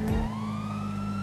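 Police siren in GTA V, a loud wailing tone sweeping upward as it starts, over a low steady engine hum, brief and close with no talking.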